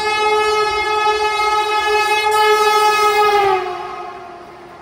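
A train passes through a railway station in Andhra Pradesh, its loud, sustained horn blaring near and steady before the pitch drops and the sound fades as it moves away.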